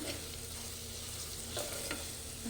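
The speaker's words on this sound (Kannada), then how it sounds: "ಸ್ವಲ್ಪ ಸಿಮ್ಮಲ್ಲಿ ಒಂದೆರಡು ನಿಮಿಷ ಫ್ರೈ ಮಾಡಿ" Pepper rasam masala frying gently on a low flame in oil, a soft continuous sizzle with a couple of stirring scrapes, close and quiet, no talking.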